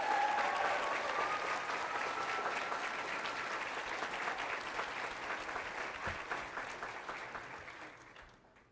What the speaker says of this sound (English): Let's give all our honorees another round of applause